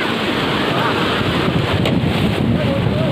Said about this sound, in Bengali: দেখো কীরকমভাবে আসছে জল দীঘা মোহনা।